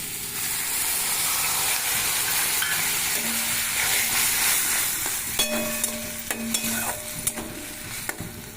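Mustard paste and a splash of water hitting a hot pan, a loud, bursting sizzle that settles into steady frying with clinks of a spoon stirring, no talking.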